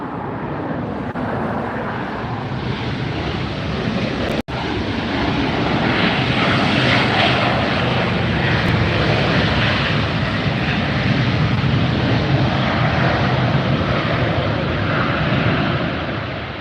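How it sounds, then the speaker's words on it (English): Jet airliners land at Los Angeles International Airport with reverse thrust: a loud, continuous roar close by that holds steady for the whole stretch, with no talking. "Do you like hearing these jets come in and reverse thrust and just tear past us really loud and fast?"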